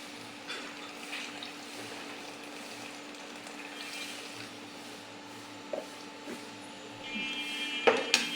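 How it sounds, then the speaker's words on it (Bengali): Hot water pours steadily into a pan of sautéed papaya for a papaya and fish curry in a village kitchen, a soft continuous wash of liquid over a low hum, ending in a few clinks. "এখন আমি এতে গরম পানিটা দিয়ে দেব"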